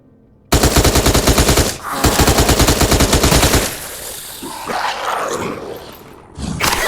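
Rapid automatic gunfire from a video game fight against an enemy: loud, dense bursts of shots, a short pause, another long burst, then rumbling and scattered blasts trailing off before gunfire resumes at the end.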